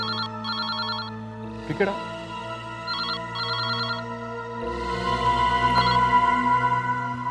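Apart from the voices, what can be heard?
telephone ringing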